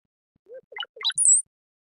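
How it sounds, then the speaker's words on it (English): A brown-headed cowbird's song, played clean against silence: a few low gurgling notes rising into bubbly liquid phrases and ending in a thin, high whistle, brief and clear. "this is the song of the brown-headed cowbird"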